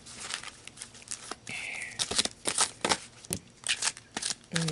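Tarot cards shuffled by hand in repeated crisp riffling bursts, close and fairly loud, with faint talk in the background.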